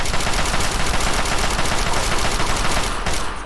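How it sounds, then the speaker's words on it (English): Loud, unbroken automatic weapon fire in the game Fallout 3, a dense rattling stream of shots that holds steady for three seconds and then tapers off, no speech. "Just keep firing. Don't ever stop firing."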